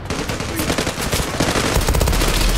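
Rapid bursts of automatic gunfire from a team deathmatch round of the online shooter Zula, with a suppressed P90 in play, crackling loud and dense throughout with no pauses.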